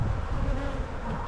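Honeybees from a very new colony, made by a walk-away split, buzz in a dense, steady drone close to the hive, with no voices over it.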